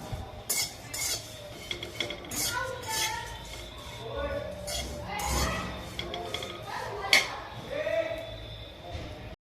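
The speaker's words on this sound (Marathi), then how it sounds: "आता कढईमध्ये ही सुकट मी चांगली भाजून घेते।" Dried fish (sukat) is dry-roasted and stirred in a kadhai, with a steady clatter and scrape of a metal spoon against the pan and occasional sharp clinks, while someone talks over it.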